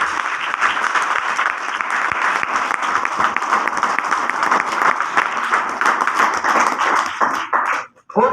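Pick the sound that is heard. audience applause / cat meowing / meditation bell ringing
audience applause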